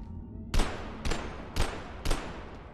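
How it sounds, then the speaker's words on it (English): Gunfire in the video game Abiotic Factor: four sharp shots spaced about half a second apart in a steady rhythm, fairly loud against a low ambient game hum. "I hear gunfire."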